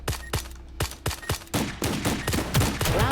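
Rapid bursts of gunfire from a mobile tactical shooter game resembling VALORANT: sharp, loud repeated shots in quick volleys, spaced at first and then tightening into dense fire without any speech.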